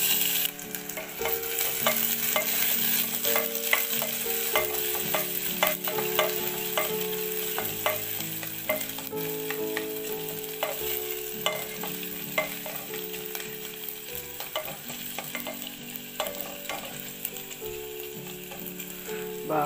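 Onions sizzling in hot oil for ash ganji, a Ramadan iftar porridge, with a steady loud fry and frequent scraping and clinking as a spoon stirs the pan; no one talks.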